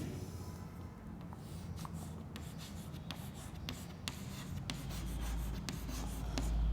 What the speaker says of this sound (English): Here you will write the theorem.